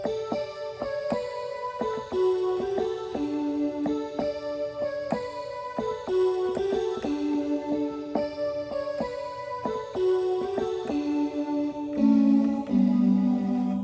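A bright, reedy synth lead plays a melodic solo line on a Roland Fantom 07 keyboard, notes stepping up and down steadily with sustained tones, no voices.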